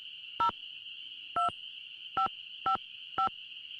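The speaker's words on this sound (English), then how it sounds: "At least you don't have to turn it like an actual rotary phone." Five short telephone keypad tones punch through a steady dial tone in a Nancy Drew video game, each beep crisp and evenly spaced, with no talking.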